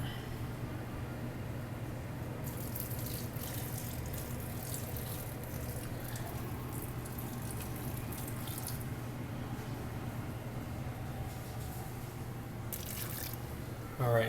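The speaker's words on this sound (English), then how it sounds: "So the water is going into the blender." Water poured into a blender jug, a steady close trickle and splash running for several seconds over a low constant hum, with a brief louder burst near the end.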